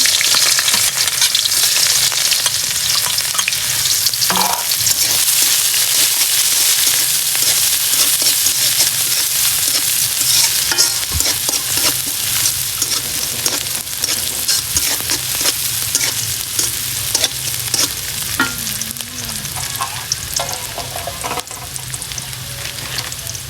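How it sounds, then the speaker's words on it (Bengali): Pumpkin pieces fry with chopped onion and green chili in a pan, giving a loud, continuous close-up sizzle with frequent clattering stirs and scrapes throughout, and no talking. "এখন আমি কুমড়া ভাজি করব।"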